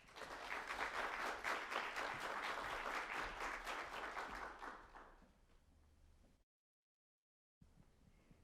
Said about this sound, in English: I'd invite you to give her a round of applause and welcome her to the stage.